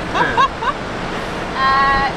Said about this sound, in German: Ja, ganz schön ein bisschen windig heute.